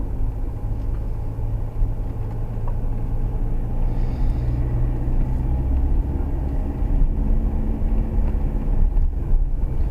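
A group of Harley-Davidson motorcycles on a winding mountain road in mid Wales, a continuous low engine rumble that holds strong for about ten seconds, heavy and steady without clear breaks.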